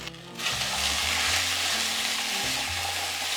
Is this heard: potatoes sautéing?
yes